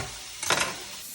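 Italian peppers are tossed in a hot pan, producing one brief, loud burst of sizzling and stirring in the middle over a steady low frying hiss.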